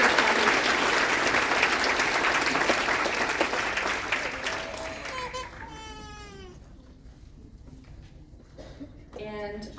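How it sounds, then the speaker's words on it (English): A concert audience applauds the stage crew of a Chinese zheng music ensemble, a dense, close burst of clapping that fades out, followed by a voice speaking at the end. "Let's give all the crews a warm round of applause."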